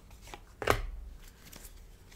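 Tarot cards are handled and set down on a table for a pyramid spread, giving a few soft paper flicks and one sharper slap, all close and quiet.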